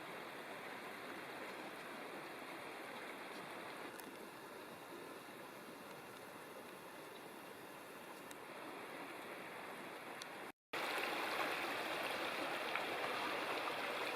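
Creek water along the Big South Fork River flowing in a steady, continuous rush, fairly close, with a brief dropout near the end before it resumes slightly louder.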